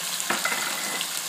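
Dry spices, peppers and ginger garlic paste go into a hot frying pan for chicken biryani, giving a steady, close sizzle with small crackles and a faint stir.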